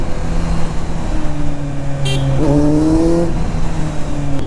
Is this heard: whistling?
no